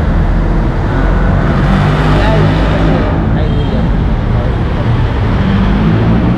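Steady, loud roadway noise from cars on a highway, a continuous broadband rumble throughout with no clear single pass-by standing out.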